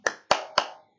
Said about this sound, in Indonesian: mari kita mulai dengan tepuk An-Nas